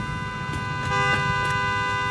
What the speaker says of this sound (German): Das Auto hupt die ganze Zeit.